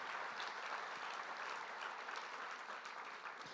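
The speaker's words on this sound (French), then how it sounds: "On peut les applaudir aussi, ceux qui nous suivent." Church congregation clapping together in sustained, even applause that fills the room, continuous and without speech.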